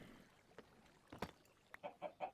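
A chicken in the video game Block Heads 2 gives a series of quick, fairly faint clucks, ending in three rhythmic bursts over a quiet background.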